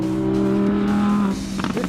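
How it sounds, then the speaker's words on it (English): An Audi R8 Spider's V10 engine screams at high revs, a loud, sustained tone that drops suddenly as the car shifts, then gives way to a rougher, pulsing burst. "Listen to that engine scream."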